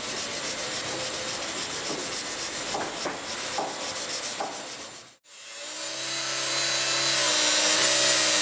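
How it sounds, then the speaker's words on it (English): Epoxied, corrosion-pitted genoa sheet tracks on a sailboat deck are sanded back by hand, with a close, rhythmic gritty rasp. After a short pause, a power tool starts up with a steady whine. "we epoxied the pits and sanded them back"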